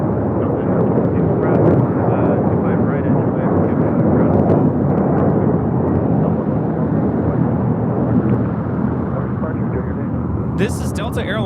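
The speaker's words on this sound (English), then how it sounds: "This is Delta Airlines 1112 taking off to New Orleans, 737-900ER." A Delta Boeing 737-900ER airliner taking off from LAX, heard as a loud, continuous broadband jet roar that holds steady throughout, with voices faintly present underneath.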